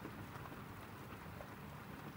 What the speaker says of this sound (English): It has started raining very heavily and this storm has just gotten so crazy